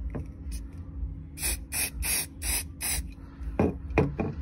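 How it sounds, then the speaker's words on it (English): A car valve cover spray painted from an aerosol can, a series of short hissing bursts in quick succession, close and clear with some small handling clicks. "sprayed like probably 5 coats"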